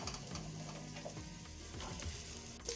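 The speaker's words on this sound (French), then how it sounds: "nous versons un filet d'huile dans notre marmite pour faire revenir" Carrots fry in oil in a cooking pot, with a constant close sizzle and occasional stirring scrapes throughout.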